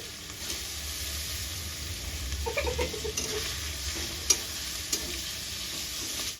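Chopped tomato hits hot oil with a bay leaf in a pan and fries with a steady sizzle, while a spoon stirs through it with a few scraping strokes and two sharp clinks against the pan.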